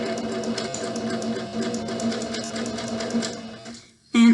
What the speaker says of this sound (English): I'm just going to sew all the way down